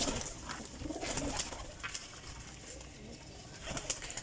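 Teddy golden flying pigeons crowded together in a loft coo softly and continuously, a low, close murmur with faint rustling and no talk.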